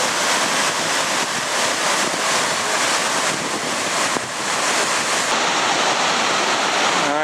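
The Mendenhall Glacier waterfall near Juneau, Alaska roars continuously from close range, a loud, full, unbroken rush of falling water with some wind buffeting.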